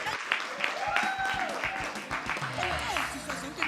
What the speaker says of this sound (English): I think we need to give a hand of applause to her.